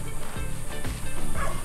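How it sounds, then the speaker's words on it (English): A dog barks repeatedly in the near distance at a Florida food forest, quick yaps over an outdoor background. "Sorry about the dog barking here."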